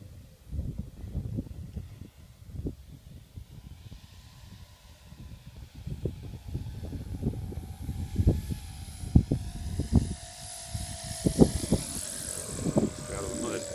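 An electric RC model airplane, a Seagull Edge 540, flies outdoors with a faint whirring motor, its pitch drifting upward as it nears, while people talk and cheer nearby.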